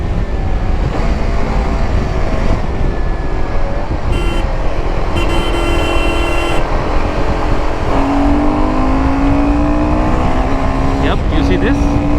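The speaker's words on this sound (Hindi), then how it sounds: "See this, the way it revs till 8000 rpm, it's crazy." A Royal Enfield Himalayan 450 motorcycle engine revs up toward high rpm, loud and close, its pitch climbing in rising sweeps with some wind noise throughout.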